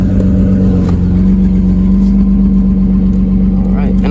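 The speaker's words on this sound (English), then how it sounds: "Oh yeah, very nice engine, sounds decent, and a 7M of course." Toyota Supra with a 7M engine idling steadily up close, a loud, even mechanical drone with faint clatter throughout.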